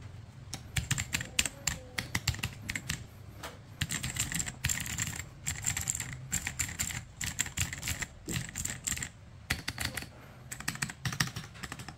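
Typing on an Attack Shark x Ajazz AKS068 mechanical keyboard with stock clicky switches, a steady flurry of sharp, scratchy clicks in bursts with short pauses, close and clear with no voices.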